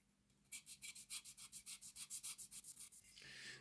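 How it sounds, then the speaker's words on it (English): Fine sandpaper rubbed back and forth on a badly tarnished Hornby Dublo Class A4 model locomotive, about twenty quick, even, close scratchy strokes in a rapid rhythm, ending in a softer hiss. "And a wee bit of fine sandpaper."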